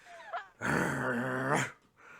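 A person imitates a bull-like grunt with one loud, sustained, growling vocal burst lasting about a second, close to the microphone and framed by brief quiet.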